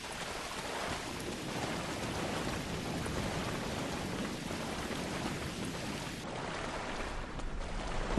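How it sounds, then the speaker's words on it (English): Rain on the planet Ryza in the video game Star Trek Online, a dense, steady wash of falling rain with a faint low rumble underneath, continuous throughout with no talking. "Wow, rain on Ryza."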